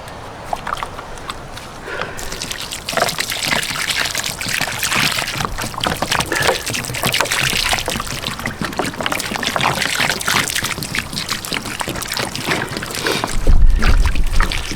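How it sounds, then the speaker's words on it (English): Water is poured steadily onto garden soil to water in plants, a continuous splashing, trickling stream heard close and fairly loud for about fourteen seconds, ending with a low thump. "we'll put plenty of water on."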